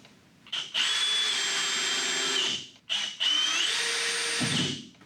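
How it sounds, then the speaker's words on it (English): A power drill driving wood screws into a fence picket, with two sustained high-pitched whirring runs that slow and strain near the end of each, close and loud, separated by a brief pause. "just put some wood screws in there to hold this in place"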